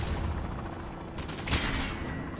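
AK gunfire in the video game Modern Warfare 2: a short burst of sharp shots heard under a steady game background din, briefly loud in the middle.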